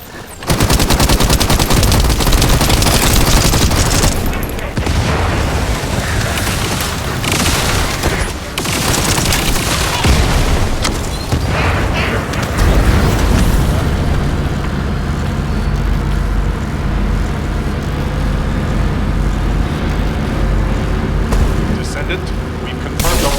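Heavy sustained gunfire aimed at an aircraft in a video game roars loud and dense, rapid automatic bursts blending with engine drone and booms, while a voice speaks over it.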